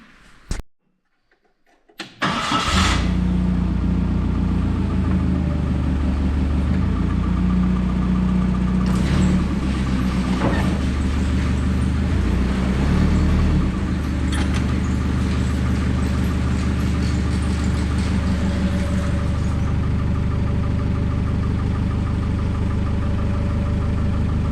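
A pulling truck chassis engine starts with a burst, then idles and runs steadily and loudly at close range as the chassis is driven out, with no talk over it.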